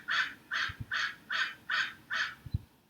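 Six loud, evenly spaced crow-like caws ring out in a steady rhythm, close and clear, with a couple of faint knocks between them.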